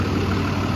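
The Cummins diesel engine of a 2020 International MV rollback tow truck idles steadily up close, a low continuous rumble with no breaks.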